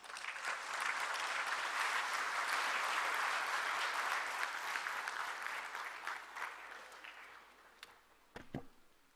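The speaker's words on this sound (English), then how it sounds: "I want you all to give him a huge round of applause" An audience at a World Human Rights Day event with India's President Ram Nath Kovind gives a loud round of applause that slowly fades, ending in a few scattered claps and knocks.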